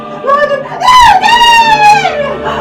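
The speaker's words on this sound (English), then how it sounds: "I felt that I must scream, or die" A woman performing Poe's "The Tell-Tale Heart" as a monologue lets out a loud, long, rising and wavering scream, close and sustained for over a second before it fades.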